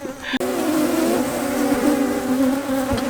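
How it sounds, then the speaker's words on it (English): Loud, close buzzing of honeybees swarming around an Apimaye hive during honey harvest, right on the microphone, a dense steady drone with shifting pitches that starts abruptly and continues throughout. "There are bees all over the camera. I don't know if you can hear them."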